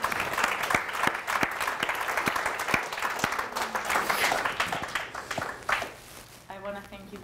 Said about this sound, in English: That's worthy of clapping for, I think.